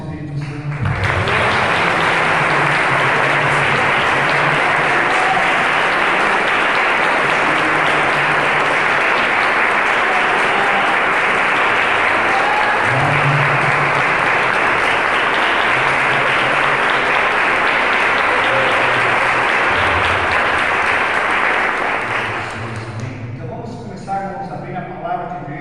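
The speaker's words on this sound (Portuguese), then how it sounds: "vamos dar uma salva de palmas para o Espírito Santo." A church congregation bursts into loud, sustained applause that fills the room for over twenty seconds, dense and steady, then tapers off near the end as voices return faintly.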